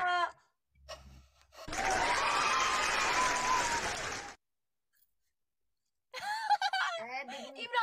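A live audience gives a burst of applause and crowd noise lasting about three seconds. Voices talk just before and after it.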